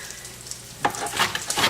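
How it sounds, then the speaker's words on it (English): Pot of grits with fresh thyme simmering on the stove, a soft steady bubbling and sizzle that grows busier toward the end, close and moderately loud with no talking. "that's going in our pot with the grits. We're going to let that just simmer"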